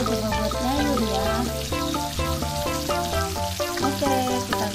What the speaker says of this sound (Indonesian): Oke, kita goreng dulu